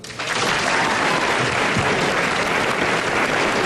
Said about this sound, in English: Clap with me if you're in the audience